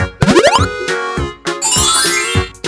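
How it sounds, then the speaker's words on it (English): A cartoonish doorbell chime sounds in an alphabet learning song for young children, a bright ascending run of ringing tones followed by a sustained shimmering jingle, loud and clear with no talk. "D, doorbell."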